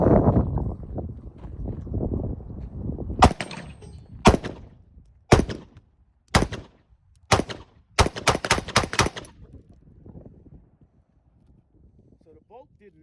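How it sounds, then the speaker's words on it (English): A .223/5.56 AR-style rifle with a Daniel Defense–sighted upper fires about ten sharp, loud outdoor shots, spaced at first and then in a quicker run, after a stretch of talk. "So we'll run 10 rounds through this and see what happens."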